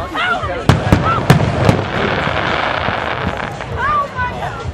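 Independence Day fireworks in Provincetown, several sharp booming bursts in quick succession followed by crackle and whistling rockets, with people's voices and cheering mixed in around them.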